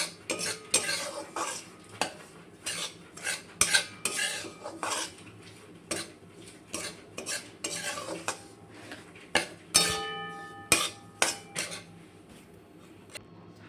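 Semolina being dry-roasted in a pan over a medium gas flame, with a metal spoon scraping and clinking against the pan in irregular bursts, close and fairly loud, alone without talk.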